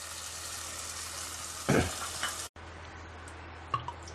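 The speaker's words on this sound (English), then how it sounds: "So I'm just going to add in the tamarind paste." Steady sizzling and frying hiss as tamarind paste is stirred into chili masala in a clay mud pot for fish gravy, with a brief louder splash midway, then quieter bubbling and occasional stirring clinks.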